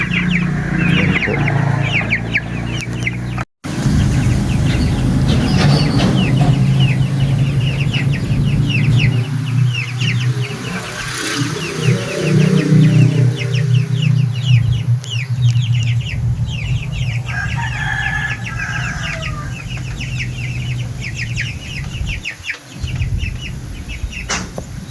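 Pet chickens cluck steadily inside a cage, their repeated calls and chirps overlapping close by over a constant low background hum across the whole stretch, with no talking.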